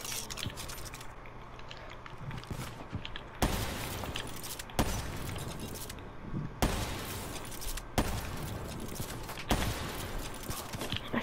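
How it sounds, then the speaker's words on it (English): Gunfire in the Black Ops 3 shooter during a 1v1 match: loud, sharp bursts recur every second or two over a dense, continuous bed of game noise, with no voices standing out. "how are none of those shots hitting you?"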